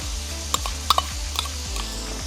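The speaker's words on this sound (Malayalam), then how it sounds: "ഇവിടെ നമുക്ക് ചുവന്നുള്ളി ഇട്ട് കൊടുക്കാമേ വെളുത്തുള്ളിയും ഇഞ്ചി ചതച്ചത്" Shallots, garlic and crushed ginger sizzle steadily in a pan, with a spatula stirring and scraping in repeated strokes and a few sharp metallic clinks, close and continuous.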